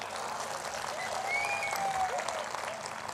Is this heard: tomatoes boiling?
no